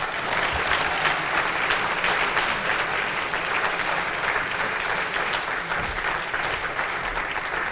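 A crowd at a community unity brunch applauds after a speech honouring Dr. King's legacy, with sustained, even clapping filling the room and a few faint voices underneath.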